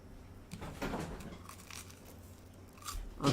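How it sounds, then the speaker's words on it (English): Crunching on toast, with several crisp bites and some chewing sounds close to the mic, spread unevenly over a few seconds and louder near the end, with no one speaking. "You don't want to hear me crunching on toast"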